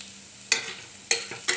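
Vegetables are mixed with salt in a pan, three sharp scraping spoon strokes rising over a low sizzle at a slow, uneven pace, with no talking.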